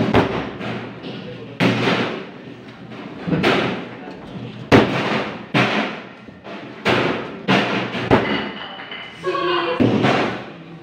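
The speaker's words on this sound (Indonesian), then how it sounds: "Adonan diuleni sambil sesekali dibanting." Yeast dough for doughnuts kneaded by hand and slammed onto a work surface, giving a series of loud, irregular thuds and slaps about a second apart with softer rubbing and handling noise between them.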